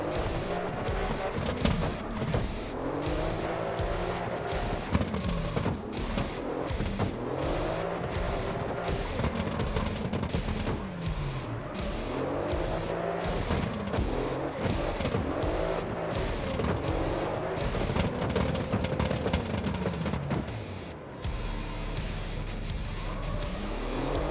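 Engine of a stock, unmodified car drifting in the racing game CarX Online 2, a loud continuous rev that rises and falls in repeated sweeps, with tire squeal mixed in and a brief dip near the end.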